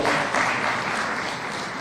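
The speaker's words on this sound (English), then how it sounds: "Please clap for our Speaker." An audience applauds the Speaker at the launch of the Kenya Young Parliament: steady, dense clapping from many hands, fairly loud and close, holding evenly throughout with no voices over it.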